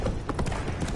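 Roach the horse galloping in The Witcher 3, rapid hoofbeats thudding close and loud in a continuous rhythm over a dense background, with no talking.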